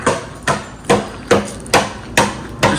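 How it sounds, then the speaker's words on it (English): Hammer blows struck on a cement mixer drum, six sharp metallic-wood knocks at a steady half-second rhythm, fairly loud and close, with no talk. "And there's Jasper hammering the life out of his mixer."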